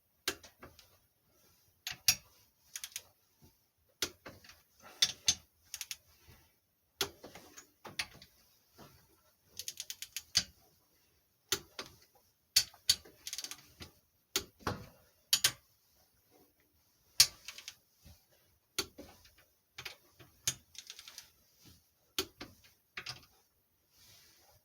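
Torque wrench tightening head bolts on a Tecumseh HH100 engine, a series of quiet sharp ratcheting clicks in irregular bursts with pauses, close and isolated.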